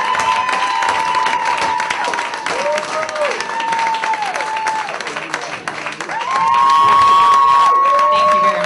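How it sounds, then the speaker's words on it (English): Audience at a student stand-up comedy show at a playhouse applauding and cheering a comedian, loud continuous clapping with whoops and shouts that grows even louder toward the end. "Big round of applause for Rachel Burch"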